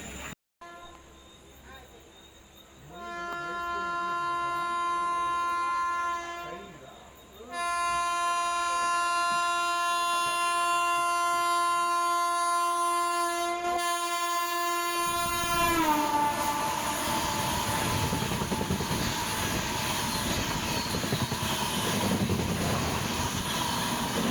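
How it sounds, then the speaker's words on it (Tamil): A loud, sustained train horn blares with rich harmonic tones, then gives way to the roaring rumble and clatter of an overtaking train rushing past nearby, on the Erode–Jolarpettai line. "அந்த ட்ரெயின் இந்த ட்ரெயினை ஓவர்டேக் பண்ண போகுது"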